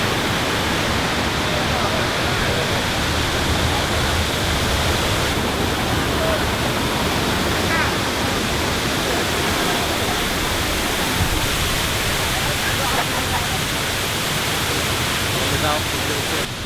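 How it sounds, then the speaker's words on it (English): El Salto del Limón, a huge waterfall in the Dominican Republic, roars as a steady, dense rush of falling water throughout, with faint voices at times. "This waterfall is amazing and beautiful and it's huge."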